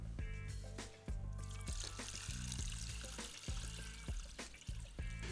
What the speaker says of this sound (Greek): Τώρα, θα ρίξουμε μέσα λίγο νεράκι για να το βράσουμε.